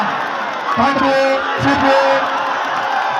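Crowd at a kabaddi mela cheering and whooping in short bursts over loud announcer speech and background babble.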